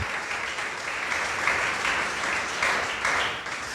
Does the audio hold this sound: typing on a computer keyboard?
no